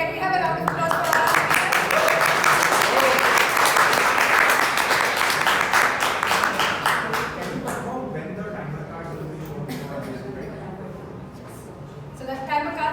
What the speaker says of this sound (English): So can we have a round of applause for that?